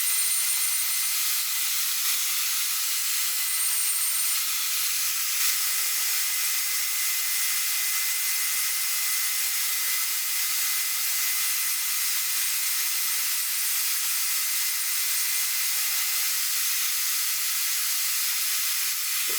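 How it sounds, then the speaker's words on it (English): A portable bandsaw on a stand cutting a notch in metal tube, a continuous even high-pitched grinding hiss that runs steadily without pause, close and fairly loud. "Now we'll cut the notch out using my portable bandsaw stand"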